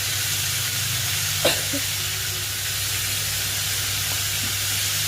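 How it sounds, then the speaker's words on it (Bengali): Potatoes fry in oil in a home kitchen, a steady soft sizzle and hiss under a low hum, with one brief clink partway through. "এরপর আলুটা আমি ভালো মতো ভেজে নেব"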